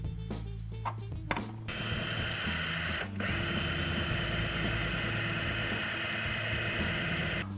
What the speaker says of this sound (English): I'm going to drill this cap out and then tap it